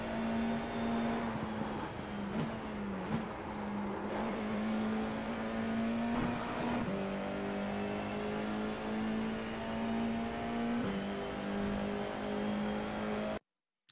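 An FIA F4 single-seater in a racing video game accelerates at Imola, its engine whining loudly and rising in pitch through several quick upshifts, each marked by a brief dip before the tone climbs again.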